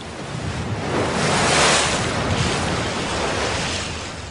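Winter ocean waves surge and break on a Russian coast in a broad, roaring wash that swells to a peak and slowly recedes, with wind noise over it.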